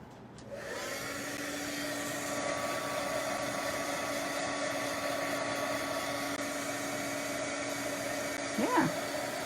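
A heat tool warming craft work gives a steady, airy blowing whir that starts abruptly and holds a constant drone throughout, with a faint squeak near the end.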